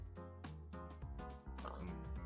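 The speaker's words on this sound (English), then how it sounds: "Ooh, pig!" A Minecraft pig gives a handful of short grunting oinks in quick succession, close and clear over a low steady game hum.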